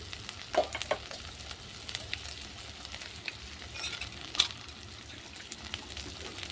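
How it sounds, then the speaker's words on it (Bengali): Steady low sizzling of spices frying in a pan over a clay stove, with a few soft clinks and stirring scrapes, no talking. "মশলাটা ভালো করে কষে নেব।"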